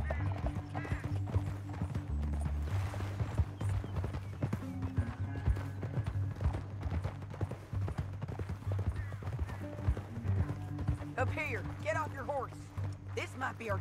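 Horse hooves clip-clop at a gallop in Red Dead Redemption 2, a steady rhythmic pounding of several horses running under a music score, with a whinny and voices toward the end.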